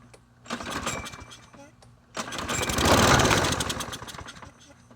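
A 2010 Troy-Bilt 21-inch push lawn mower is pulled over and its small engine catches, sputtering briefly and then roaring up loud and close, with someone speaking over it at the start.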